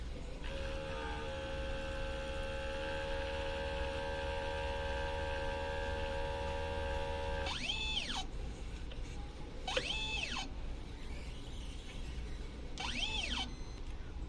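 A printer runs a print head cleaning cycle, giving a steady motor drone with tonal hum, punctuated by three rising and falling whining pump or carriage sweeps.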